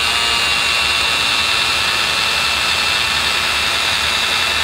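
An electric drill runs at full speed without pause, a loud, close, steady high-pitched motor whine with no talking.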